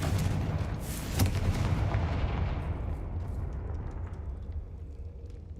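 The Confringo fire-blast spell detonates in Hogwarts Legacy with a loud, sharp boom that rolls into a long, fading rumble.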